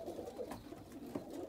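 Oman pigeons in a breeding loft give soft, repeated coos close by, a low throaty murmur that goes on for the whole short stretch.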